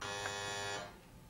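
A single loud electronic quiz buzzer blares steadily for most of a second, then cuts off, leaving faint room noise.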